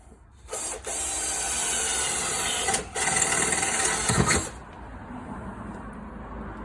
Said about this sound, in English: So we're going to drill holes